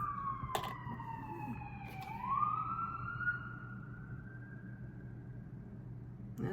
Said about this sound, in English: It's almost like all the sirens are stopping like right in front of you.